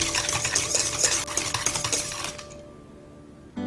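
Oil is being stirred into pumpkin muffin batter in a bowl, heard as a quick, close, scraping and clinking whisk against the bowl that stops abruptly, leaving near silence before a final soft knock.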